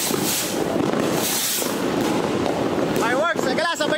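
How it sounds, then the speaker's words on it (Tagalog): New Year's Eve fireworks and firecrackers in the Philippines crackle and boom in a dense, continuous barrage, with voices calling out near the end. "Fireworks na tayo."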